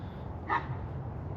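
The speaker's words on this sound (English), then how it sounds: "we're running into a stray dog and two really big dogs wanting to hop the fence" A single short dog bark rises briefly from a steady low rumble of background noise, moderately distant, with no talk, near a jobsite on a cold morning where a stray dog and two big dogs are about.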